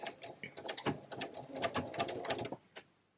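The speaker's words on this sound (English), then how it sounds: "back under the presser foot to finish this off. So I'm going to backstitch again" A sewing machine backstitching the piped seam of a lightweight summer dressing gown: a close, rapid mechanical chatter in short bursts, then stopping with a final click.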